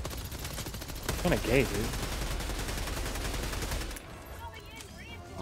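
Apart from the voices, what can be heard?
gunfire from shooting enemies in Helldivers 2 video game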